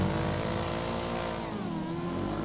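Motorcycles accelerate past on a road with a loud, sustained engine drone whose pitch shifts as they go by. No one speaks.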